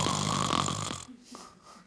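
A man mimics snoring with a loud, drawn-out rasping snore followed by a few softer breathy snorts.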